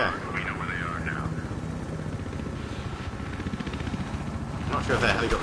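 Helicopter in Battlefield Hardline droning steadily throughout with a continuous rotor and engine rumble, moderately loud in the game mix, with a brief burst of louder noise near the end.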